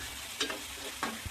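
Tomatoes hitting hot oil in a pan, with a steady frying sizzle and two or three short stirring scrapes close up, no talk.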